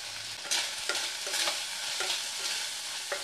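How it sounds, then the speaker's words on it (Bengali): Ginger paste, a little cumin powder and turmeric sautéing in a pan for moong dal, with a soft sizzle under repeated scraping stirs and light clicks of a spoon, no talking. "মশলাটাকে একটু ভেজে নেবো, কাঁচা গন্ধটা যাতে মরে যায়"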